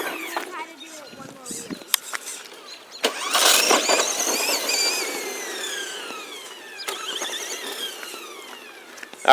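Tamiya Lunchbox RC monster truck, built as a Mystery Machine, driving around: an electric motor whines up and down in rising and falling sweeps with scuffs and knocks, while people talk at times.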